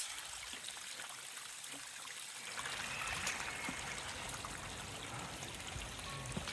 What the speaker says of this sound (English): But then we have stuff like this. Underwater springs.